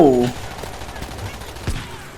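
Loud shotgun blasts from the video game World War Z: Aftermath ring out, with a sharp boom early on and another later, and a brief voice near the start.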